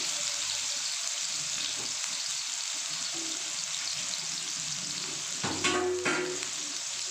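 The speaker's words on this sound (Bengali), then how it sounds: "তো তেল গরম হয়ে গেছে আগে আলুগুলো ভেজে নেবো" Chunks of potato fry in hot oil with a steady, close sizzle, broken near the end by a brief clatter and scrape of stirring.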